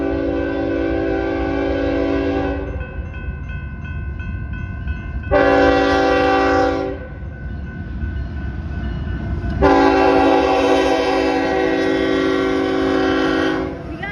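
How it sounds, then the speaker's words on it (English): A CSX freight train passing on the rails sounds its horn in three loud, sustained blasts, the last one the longest, over a constant rumble of rolling wagons. "Oh, it looks like we got a CSX too."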